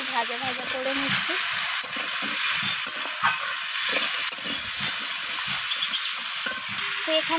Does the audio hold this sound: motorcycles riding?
no